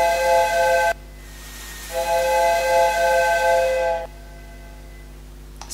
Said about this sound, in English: steam comes out of your ears like you're super angry